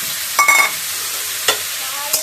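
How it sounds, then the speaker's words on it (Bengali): Bitter gourd pieces fry in a pan with little oil, and a utensil scrapes through them in three short stirring strokes over a continuous soft sizzle. "নেড়ে ছেড়ে করলাগুলো ভাজতে দিল।"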